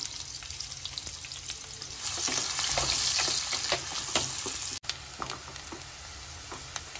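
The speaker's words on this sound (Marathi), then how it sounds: "आणि आपण कांदा भाजून घेऊया चांगला लाल होईपर्यंत।" Chopped onion fries in a pan with mustard seeds for a paneer vegetable pulav, a steady close sizzle broken by frequent sharp scraping stir strokes, with a brief dropout near the end.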